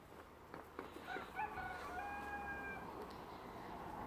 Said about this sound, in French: C'est agréable d'entendre les coqs et tout.